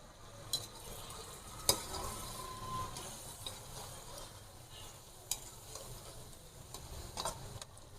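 A spoon scrapes and stirs chicken karahi with whole green chillies in a pan, quiet and close. Faint sizzling runs underneath, with a few sharp clicks of utensil against metal.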